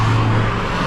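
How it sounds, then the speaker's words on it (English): Road traffic roars past close by on Pescadero Creek Road, a continuous loud rush of a car going by with a low engine hum. "let's wait for these cars."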